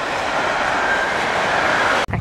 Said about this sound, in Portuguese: Acho que é trem bala, não é? Ah, mas é rápido também